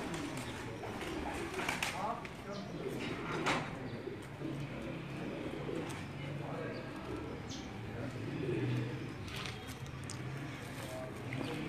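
Pigeons from a collection coo steadily at close range in cold, rainy weather in Rawalpindi, with a faint rustle and people talking intermittently nearby.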